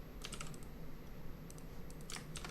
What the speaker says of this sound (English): Do the things with the keyboard.